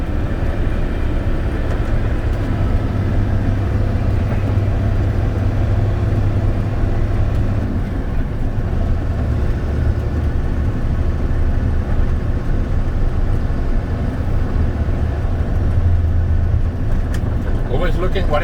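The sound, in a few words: car driving at 45 mph on a road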